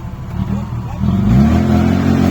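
A 2.0 Opel Frontera engine revs loudly and close, rising from a rough idle into a sustained, climbing roar, with voices talking over it.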